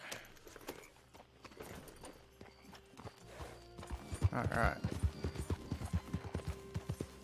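Horse hooves clip-clop in Red Dead Redemption 2, quiet at first then growing into a clear, fairly close rhythmic trot, with a voice speaking briefly over it.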